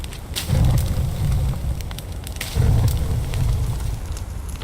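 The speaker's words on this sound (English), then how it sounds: "I hear fire" Fire crackling and rumbling in The Forest survival game, a steady low roar with two louder swells and scattered sharp pops, no one speaking.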